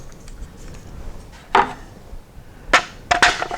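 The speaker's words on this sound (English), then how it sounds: "Take the bolt assembly, put it back into the upper receiver" Steyr AUG 9mm police carbine bolt assembly sliding and seating into the upper receiver, with a few sharp metallic clacks and knocks spaced over a few seconds, close and alone.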